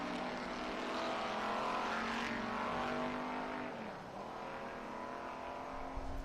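A Cobra race car driven by John McCormick roars past on the track at Barber during an SVRA race, a loud sustained engine note with pitch sweeping up then dropping as it passes, broadband and continuous throughout.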